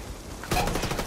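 A quick burst of rapid video game gunfire in a squad shooter, loud and close, beginning abruptly after a quieter moment.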